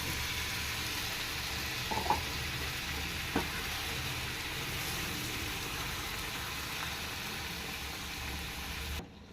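A pan of brinjal masala curry simmers and sizzles steadily after a little water goes in, a soft even bubbling hiss with two brief clinks near the start and a faint knock later.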